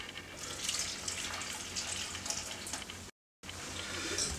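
Tap water runs steadily into a container as two cups are added to a brisket injection mix, a continuous close splashing pour with a brief break near the end.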